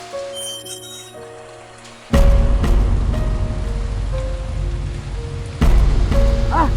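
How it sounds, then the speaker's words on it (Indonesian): Rain falls in a comedic skit where the rain is soy milk, starting as a light patter and then turning suddenly into a loud, steady downpour that surges again near the end. "Ini hujan susu kedelai."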